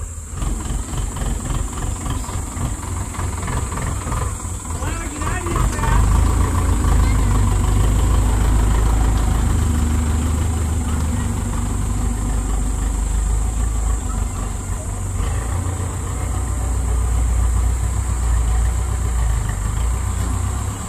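A tractor engine idles and revs steadily close by while levelling the ground beside a house, a loud continuous diesel rumble that swells midway, with faint voices underneath.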